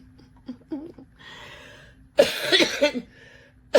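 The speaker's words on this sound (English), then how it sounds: "Excuse me for coughing" Faint breathy sounds give way to a cluster of harsh, loud coughs nearby, followed by one more sharp cough.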